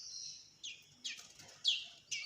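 Captive blackthroat songbirds chirping, a series of about five short high-pitched tweets in an irregular rhythm, close and fairly clear over quiet background, no voices.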